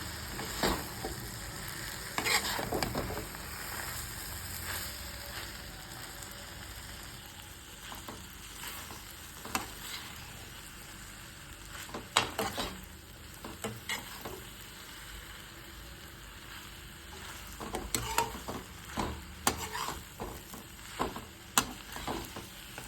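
Chopped chapati pieces stirred and fried in a pan for hotel-style chilli chapati, a low continuous sizzle broken by repeated clacking and scraping stirs throughout.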